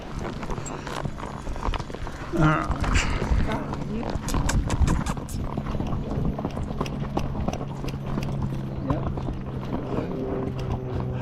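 Horse hooves clip-clop along a trail in the Bryce Canyon area, a steady walking rhythm close by with a white horse ahead, while people talk over the hoofbeats.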